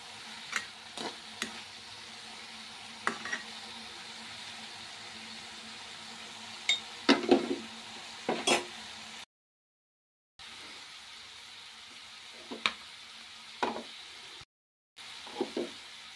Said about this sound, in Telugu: బఠానీస్ కూడా ఇందులోకి వేసేస్తే బాగా టేస్టీగా ఉంటాయి. ఆయిల్లోనే బాగా మగ్గిపోతాయి